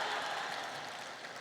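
Audience applause at a Hindi comic poetry gathering (hasya kavi sammelan), a dense wash of many hands clapping steadily and fairly loud throughout, with no voices standing out.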